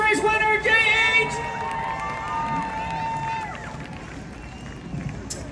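A crowd at a figure 8 school bus demolition derby race cheers for the winner, a distant roaring mass of voices under a close announcer's voice, with a high whining tone sliding through early on.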